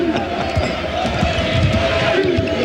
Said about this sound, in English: They're not booing, they're saying Lou.